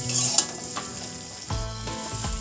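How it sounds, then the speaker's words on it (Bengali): Pointed gourd frying in a pan with salt and turmeric, a steady close sizzle with a few clinks and scrapes of a spatula stirring, no voices. "এবার এইগুলো দিয়ে ভালো করে পটলটা একটু কাল ভাজা ভাজা করতে থাকবো।"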